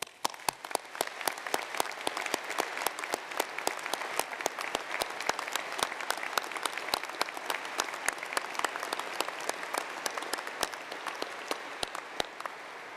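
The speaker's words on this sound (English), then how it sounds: "could we all please start by collectively applauding our" Graduation ceremony audience in a cathedral applauding the graduands, a steady, even wash of many hands clapping together with sharp individual claps standing out, sustained throughout at moderate volume in a reverberant space.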